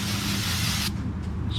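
A short, loud hiss of spray cleaner blasts onto an Audi A3 during an oil change and cuts off abruptly, with a brief fainter puff after it.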